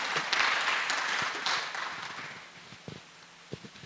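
Audience applause for conference panelists at a university event, a burst of clapping that fades over a few seconds, leaving scattered claps and room noise.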